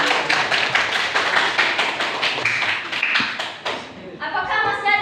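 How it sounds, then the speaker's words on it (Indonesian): Classroom applause, a burst of many hands clapping at a quick rhythm that thins out after a few seconds, followed by a voice speaking. "Baik, berikan aplaus untuk."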